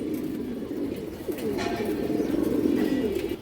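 A green-throated pigeon with red eyes coos in a low, steady throaty rumble, fairly close and moderately loud, with a few faint chirps from other birds behind it.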